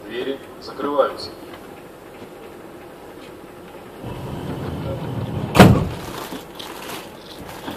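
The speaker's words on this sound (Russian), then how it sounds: "Осторожно, двери закрываются." Doors on a Moscow monorail train slide shut with a sharp thump under a recorded announcement voice, set against the steady hum of the carriage interior.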